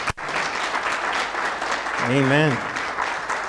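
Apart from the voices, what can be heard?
congregation applause for veterans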